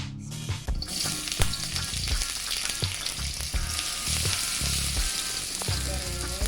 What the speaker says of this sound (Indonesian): kita panaskan minyak goreng 3 sendok makan saja, lalu kita gorengkan bawang bombaynya